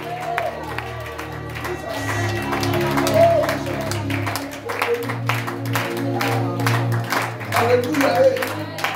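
A church congregation claps and cheers in praise during a French-language worship service, a steady mass of applause lasting throughout, with a sustained organ or keyboard tone and voices mixed in the crowd noise.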